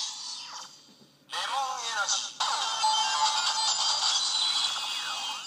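Electronic sound effects from an opened Kamen Rider Lockseed toy: a brief tonal chirp, then bright, busy synthesized jingles and sweeping tones playing continuously at moderate volume.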